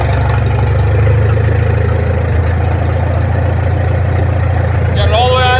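A Farmall M tractor with open exhaust, just after a carburetor rebuild, runs at a steady, loud, low idle throughout, with a brief higher whine near the end.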